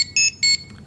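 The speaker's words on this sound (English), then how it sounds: "so it's gonna play the communicator beep" A Power Rangers Legacy Communicator toy gives two short, loud electronic beeps, each a bright two-tone chirp, in quick succession, with a faint blip trailing after them.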